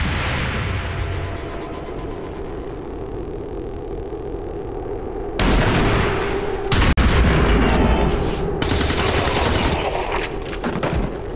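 Reaction-fire gunshots in XCOM 2: War of the Chosen as Advent troops, an officer and two troopers, trigger overwatch, with dense loud bursts of gunfire and impacts over a steady game background in the second half.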